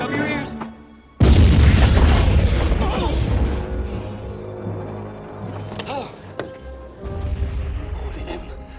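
A cannon fires from a train, one sudden heavy boom that rumbles and fades over several seconds, with voices speaking over the aftermath.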